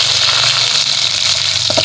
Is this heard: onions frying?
yes